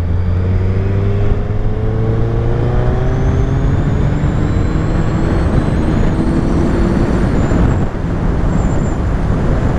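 A 2021 Suzuki Hayabusa motorcycle engine pulls while riding on a fast road, a loud, steady rising drone with shifting engine tones and strong wind rush, no talk over it.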